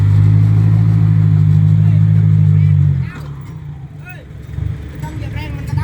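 A truck reversing to load soil drones with a loud, low, steady engine hum for about three seconds before it drops away, leaving quieter rumbling with voices talking over it.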